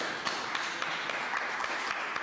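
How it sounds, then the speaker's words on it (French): A studio audience on a 1997 television quiz show applauds steadily throughout, a dense, even wash of clapping with a few sharper claps standing out, moderately loud and with no talking over it. "On l'applaudit."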